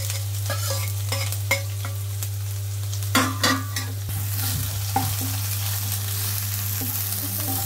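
Finely chopped large onion fries in a pan while being stirred, steady sizzling under repeated scraping and clinking strokes of a spoon, close and continuous.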